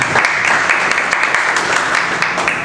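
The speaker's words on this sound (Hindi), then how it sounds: "अगर हो सके तो तालियां बजाते रहना।" Audience clapping at a Hindi stand-up comedy show, a dense, steady wash of applause filling the whole moment at close range with no voices over it.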